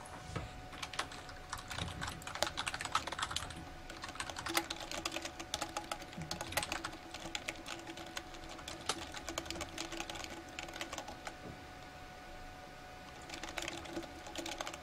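Rapid, continuous clatter of a computer keyboard during a Dota 2 match, close and busy, with brief pauses and uneven bursts of keystrokes and no speech.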